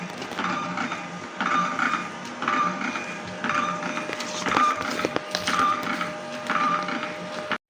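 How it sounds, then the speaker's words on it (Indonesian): A compact receipt-style printer turns out Shopee marketplace shipping labels, with about seven regular whirring feed bursts evenly spaced and close by, a faint background hum between them. "Nah sudah, kita print seperti ini."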